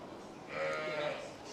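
A large Cotswold sheep bleats once in a sheep shed at an agricultural show, a single drawn-out nasal call close by over a low background murmur.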